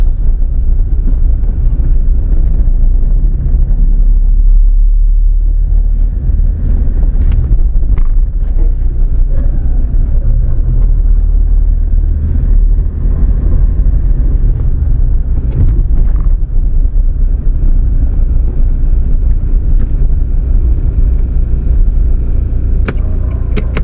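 Steady interior drone of a 2014 Mahindra Scorpio SUV on the road, with a constant low engine and road rumble plus some wind noise throughout, no talking.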